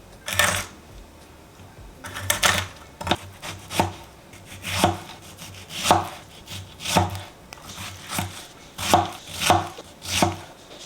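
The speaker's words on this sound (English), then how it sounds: "we'll just cut a banana in half lengthwise" Kitchen knife slicing a banana lengthwise for a healthy banana split, heard as a steady series of about a dozen firm knocks on a cutting board, close and fairly loud, with no talking.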